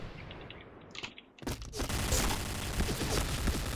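Enemy gunfire in the video game Point Blank: after a quiet start, a sharp blast opens a sustained, loud burst of rapid shots that continues to the end without pause.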